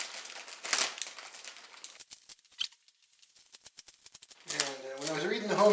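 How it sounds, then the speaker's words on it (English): Plastic wrapping is sliced and crinkled off a new Graco X5 paint sprayer, with close, irregular crackling and snipping bursts, and a voice comes in near the end. "Be careful when you're cutting the plastic off."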